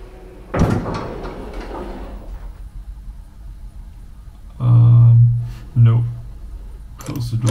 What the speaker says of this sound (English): so I guess we need to close the doors again.